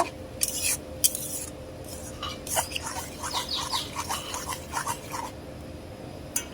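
Spices, coriander, chili powder and ginger-garlic paste sautéing in a pan for egg bhuna, with scattered metallic spoon scrapes and clinks over a low steady sizzle, fairly quiet and close.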